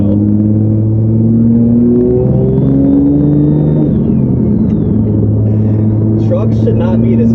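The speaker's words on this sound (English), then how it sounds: "So I hope you guys can hear the turbo." A Cummins diesel truck with a big turbo, around 600 hp, accelerating from a stop: loud, steady engine rumble with a turbo whistle that rises and then falls, while a voice talks close by.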